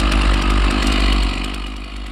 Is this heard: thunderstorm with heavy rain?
no